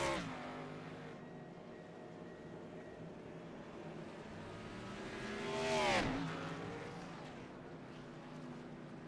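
Race cars come down pit road in a Thursday Night Thunder racing series event, engines droning steadily, with one car swelling close by in a Doppler pass around the middle before fading again.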